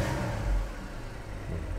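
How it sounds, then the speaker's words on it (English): Porsche Cayman R engine giving a short blip of revs, a low solid hum swelling briefly then settling back to idle, close and fairly quiet. "Just to give it a few little beans."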